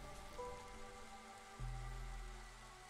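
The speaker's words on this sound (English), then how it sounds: "it's drizzle time, so everyone is planting." Drizzle falls in the video game Against the Storm, a soft continuous patter of light rain over sustained low tonal game music, fairly quiet and steady with no talk.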